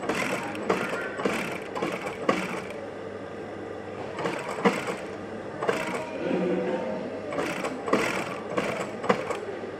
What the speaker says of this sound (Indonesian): Yuk, sekarang kita jahit dulu.